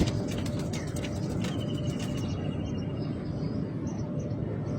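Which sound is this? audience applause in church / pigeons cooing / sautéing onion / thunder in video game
pigeons cooing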